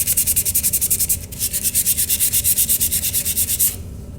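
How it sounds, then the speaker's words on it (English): Sandpaper rubbed back and forth along a sheet metal edge while deburring it, giving a steady rhythmic rasping scrape of quick close strokes with a brief pause, then stopping near the end. "And see what the sandpaper does."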